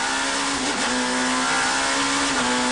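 BMW touring race cars in a 1994 World Touring Car Cup event racing over a crest, a loud steady engine drone with a held high tone and a slight pitch dip partway through, no talk.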